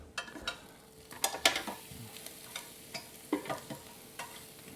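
Shrimp sizzling on a Ninja Foodi XL grill for lemon pepper shrimp: a steady, fairly quiet fry hiss broken by several sharp crackles and pops spread through the stretch, with no talking.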